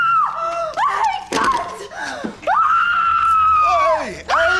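A person screams repeatedly right after a gunshot in a tense scene, with long, shrill wails broken by gasps and a sharp smack, loud and close.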